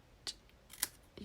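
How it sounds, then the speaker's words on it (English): Scissors make a few quick, close snips through a paper banner strip in a stamping card craft, three short crisp cuts spaced apart against a quiet background. "So let's just cut ourselves a little banner."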